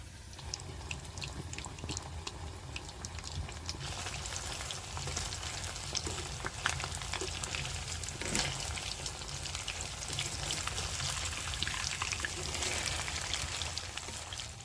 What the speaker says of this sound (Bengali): হালকা করে জাল দিয়ে পোকোড়াগুলো ভেজে নিতে হবে